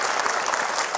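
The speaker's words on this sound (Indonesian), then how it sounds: "Nah, tepuk tangan semuanya." An audience breaks into dense, steady applause, close and loud throughout the brief moment.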